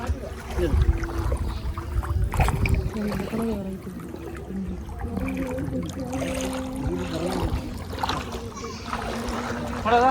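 Water sloshes and splashes around a boat moving through the backwaters of Munroe Island, Kerala, with voices talking over it throughout.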